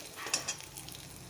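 Garlic fries in oil in a pan with a soft, steady sizzle. It is faint and close, with a couple of light clicks near the start and no voices.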